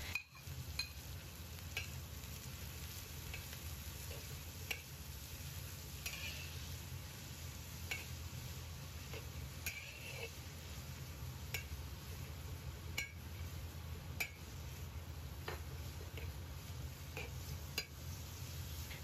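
Bean sprouts and carrots stir-fried in a wok, with a steady close sizzle under repeated scraping stirs and occasional light metallic clinks of the spatula against the pan.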